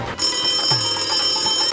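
A telephone rings loudly and close with a call from home, a steady electronic ringtone with no one speaking over it.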